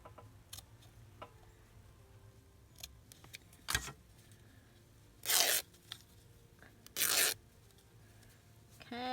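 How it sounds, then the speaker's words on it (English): Fabric lace is torn by hand for a junk journal in quiet indoor surroundings, with two brief, loud ripping bursts among soft rustling and small ticks. "we'll go to this side and tear this one"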